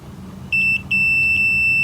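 Multimeter continuity beep sounding while probing the coil of a Nordmende Rigoletto 59 valve radio under restoration, two steady high electronic tones, one short and one longer, close and clear over a low background hum.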